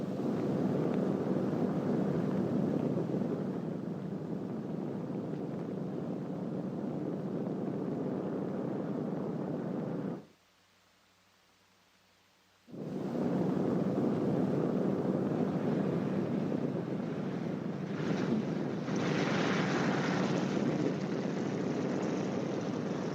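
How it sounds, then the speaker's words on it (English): A B-29 Superfortress, the four-engine WWII bomber, lands from final approach. A loud, steady, droning engine roar is broken by a brief dropout to near silence midway, then resumes with no voices. "When you touch the ground, the plane should be slightly tail low and going between 95 and 100 miles per hour."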